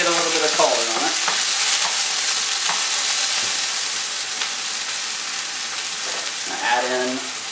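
Garlic and tomato paste frying in a pan while being stirred, a steady close sizzle with scraping stir strokes throughout, no voices.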